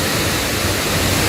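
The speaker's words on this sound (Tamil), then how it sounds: "அழகாக இங்கே உட்காந்துட்டு நீங்கள் அருவியோட அழகை ரசிக்கலாம்." Athirapally waterfall in Kerala roars as a loud, steady wash of rushing water, with no break and no voices over it.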